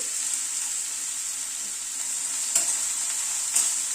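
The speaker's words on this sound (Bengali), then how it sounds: "পেঁয়াজটা দিয়ে পেঁয়াজটাকে আগে একটু ভেজে নেব।" Chopped onions fry in hot oil for a roasted-sesame and crushed-nut eggplant mash, a steady close sizzle with a couple of brief louder spatters or stirs near the end and no voices.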